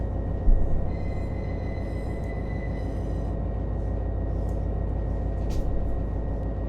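Freight cars rumble along steadily as a BNSF local train pulls them through a switch in the Run 8 train simulator game, with a constant low rolling drone and faint metallic tones.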